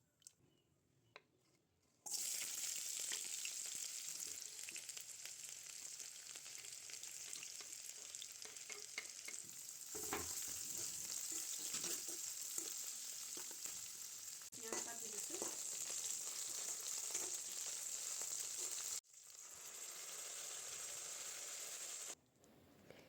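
Taro curry with fish sizzles steadily in hot oil for a long stretch, with stirring scrapes in the middle and a brief quiet break near the end, no talking over it.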